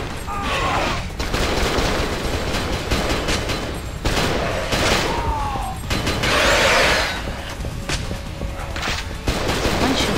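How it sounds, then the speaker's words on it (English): Heavy gunfire from a group of people shooting at monsters in the horror game Cold Fear, with rapid bursts and crashes filling the whole stretch, loud and close, broken by short pauses and a louder volley in the middle. "It's a bunch of people shooting those freaks."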